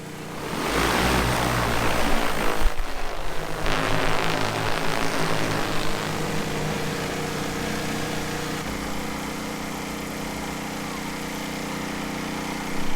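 A large drone flies close by, its propellers buzzing in a loud, continuous drone that holds steady throughout with no talk.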